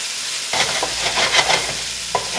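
Garlic and shallots sautéing in a hot pan for tom kha gai, a close, loud sizzle broken by a few quick stirring scrapes; no talking.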